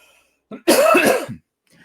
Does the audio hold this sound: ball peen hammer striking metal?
no